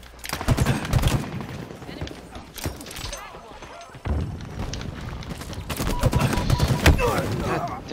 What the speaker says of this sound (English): Oh shit, that's a needler.